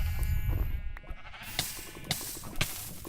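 Sheep bleat in a Minecraft game, a low livestock sound at the start followed by a few short, sharp game sound effects spaced about half a second apart.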